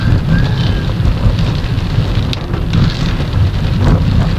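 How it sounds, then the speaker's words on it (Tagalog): Heavy rain pours down in a dense, steady hiss, loud and unbroken from start to finish, with no one talking. "Malakas ang ulan."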